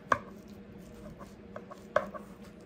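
A knife cuts into a tray of baked ham and cheese sliders with two soft, close taps against the pan under faint crinkling and handling noise, quiet and with no talking.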